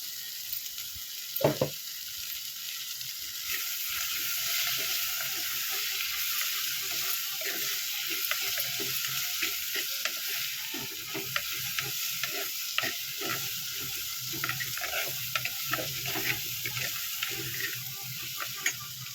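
Oil heats in a frying pan while a spoon stirs it, giving a steady loud sizzle with repeated scraping strokes throughout, before small fish are cooked for a curry, with no voices.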